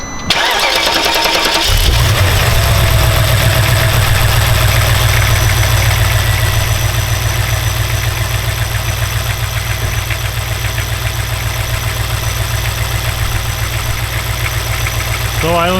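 A BMW N62 V8 car engine, after a timing chain overhaul, cranks and catches, then settles into a loud, steady, smooth idle that continues unbroken.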